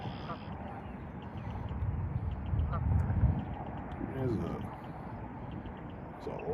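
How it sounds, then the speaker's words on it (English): Geese honk and quack on the water during kayak fishing in Nebraska, scattered calls at moderate distance over steady broadband noise. "We got a parade of geese going here."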